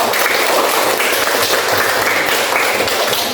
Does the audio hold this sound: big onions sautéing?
no